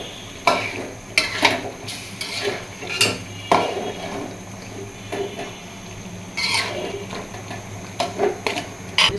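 Chicken meat going into a hot pan for a bhuna, with a sizzling hiss under repeated clanks and scrapes of a metal spoon stirring against the pan, loud and close, in uneven bursts.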